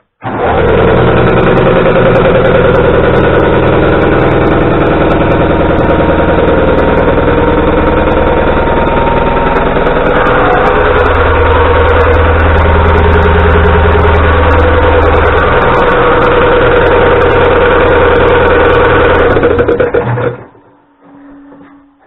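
Diesel engine of the Błękitna Strzała railcar idling steadily just after startup, a loud, close, continuous low rumble with vibration that holds for about twenty seconds before cutting off abruptly.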